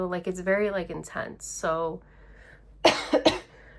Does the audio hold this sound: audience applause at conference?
no